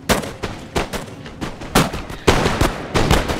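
Musket volleys and artillery fire boom through a Napoleon: Total War battle, a loud run of irregular overlapping blasts and crackling gunfire that rolls on without pause.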